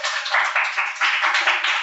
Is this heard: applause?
yes